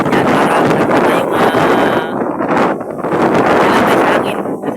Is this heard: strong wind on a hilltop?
yes